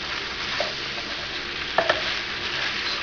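Raw spaghetti is tossed and stirred in a sizzling pan, a soft steady frying hiss with a couple of brief clinks of a utensil against the pan.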